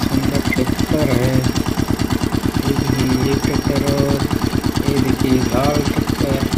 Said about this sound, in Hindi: ये देखिए तीन ट्रैक्टर और आ गया।